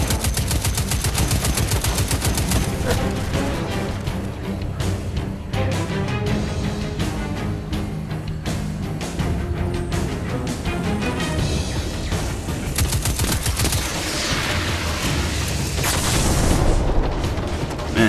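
Sustained weapon fire in the sci-fi shooter Destiny 2, a dense stream of rapid shots and heavy booms with explosive impacts, loud and continuous throughout, with a swelling burst near the end and no voices.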